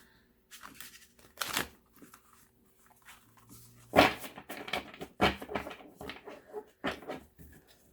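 Tarot cards from a Sugar Skull deck being shuffled by hand, heard as quiet, irregular bursts of riffling and sliding, with short sharp flicks separated by near-silent pauses.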